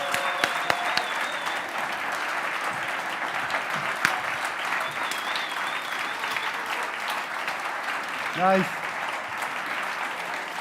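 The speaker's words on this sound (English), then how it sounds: "give them a big round of applause" Sustained audience applause for a hackathon team called on stage at a solution-day event, a dense steady roar of clapping throughout with a brief spoken word from a presenter and a few voices rising near the end.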